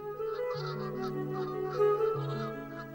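Several geese, winter visitors in flight, honk in overlapping calls, a steady chorus of nasal honks at moderate distance with no talking.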